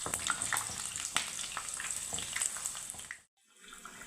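Baje fritters frying in a pan after being flipped, giving a steady close sizzle and crackle of hot oil that cuts off briefly near the end before resuming.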